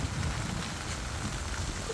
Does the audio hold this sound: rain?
yes